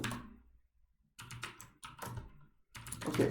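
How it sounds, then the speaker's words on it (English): Close bursts of rapid computer keyboard typing as chess-game code is entered, clusters of quick key clicks separated by short pauses. "So let me type that first and explain later."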